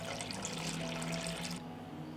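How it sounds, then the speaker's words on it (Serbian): Cold water pours steadily into a pot containing a cloth and jars, a loud continuous gush with a low ringing tone that eases to a quieter flow in the last half second. "Sipat ću hladnu vodu u šerpu do visine poklopca."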